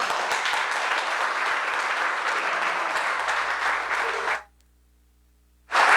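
Church congregation giving steady, loud applause, a dense even rattle of many hands that cuts off abruptly to silence before another burst begins at the end.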